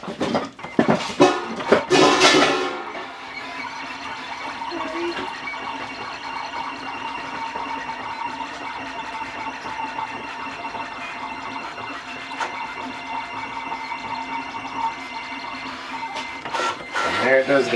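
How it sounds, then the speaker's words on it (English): Vinyl cutter cutting an automatic weed box around a sublimation vinyl design, a steady mechanical whirring and buzzing of the carriage after a brief louder start, running on alone with small clicks. "Send to cutter."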